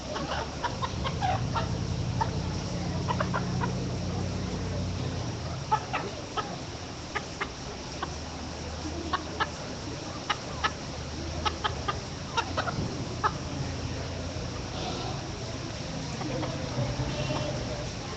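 Chickens cluck and a rooster calls repeatedly across a busy fair poultry show barn, the bird sounds scattered and moderately near over crowd murmur and occasional talk.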